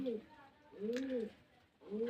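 Domestic pigeons kept for sale at a home loft coo in low, rolling, repeated calls, two clear phrases close by with faint background noise between them.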